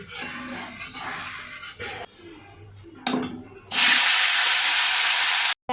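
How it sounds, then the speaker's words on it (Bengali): Moong dal hits a hot pan and bursts into a loud, steady hiss of frying after some quieter clinks of cookware, then cuts off abruptly. "মুগ ডালটা ভেজে দিই"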